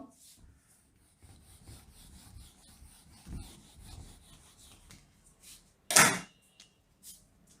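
Rubbing strokes of an eraser wiping writing off a classroom board during a maths lesson, soft scraping passes with one sharp louder swipe near the end, no voices.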